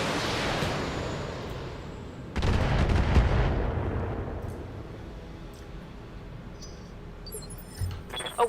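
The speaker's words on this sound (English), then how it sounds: "Firing a full salvo." Mech in the BattleTech video game unleashing a full weapons salvo: a loud burst of booming, rumbling weapon fire that swells suddenly and then trails off into a long, noisy decay, with no talking.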